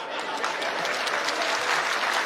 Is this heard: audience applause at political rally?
yes